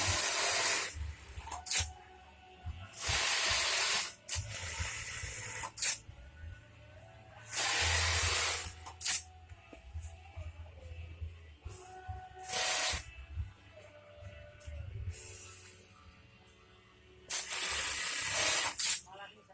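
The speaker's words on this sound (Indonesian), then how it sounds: "Malah sering disemprot minyak." Oil sprayed onto a Juki 1850 bartack sewing machine during repair, heard as about seven loud, sharp hissing bursts of one to two seconds each, separated by quieter gaps with faint background sounds.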